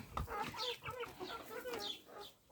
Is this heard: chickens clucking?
yes